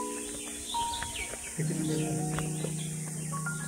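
Birds twitter and chirp in short bright calls over a quiet background in rural Ratnagiri, Konkan, with a sustained low hum running beneath them.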